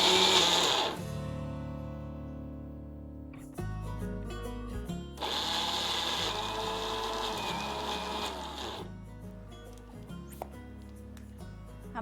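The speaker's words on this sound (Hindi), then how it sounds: "बादाम को हमने दरदरा पीसना है," An electric grinder whirs coarsely through soaked almonds in loud motor bursts, cutting out for a couple of seconds and then restarting in pulses.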